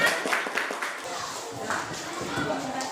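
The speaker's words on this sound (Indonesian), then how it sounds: "Oke, tepuk tangan." Scattered classroom clapping follows a student presentation, a loose patter of hands that comes and goes, mixed with voices talking over it at moderate loudness.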